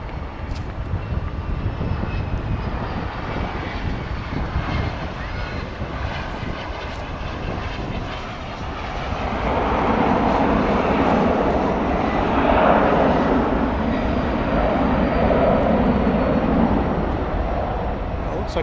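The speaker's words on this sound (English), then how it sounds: "that was American Flight 2761, a 737-800 on its way to St." American Airlines Boeing 737-800 jet taking off from DFW, a steady broad jet roar that swells louder midway and stays strong, heard from a distance outdoors.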